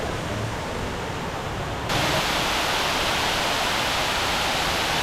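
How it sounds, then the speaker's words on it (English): A waterfall at a shopping center on Oahu pours steadily in the rain, a dense close hiss that grows louder partway through and holds constant with no voices. "It's raining, but the waterfall is cool."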